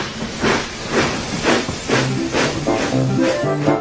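A steam locomotive chuffing steadily away, rhythmic puffs of hissing steam repeating about twice a second, fairly loud and close with no talk, over a faint musical background.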